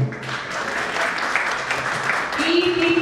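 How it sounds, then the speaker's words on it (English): Audience applauding children at a school sports and annual day event, sustained clapping from a crowd throughout, mixed with voices and cheering. "Keep cheering for your children,"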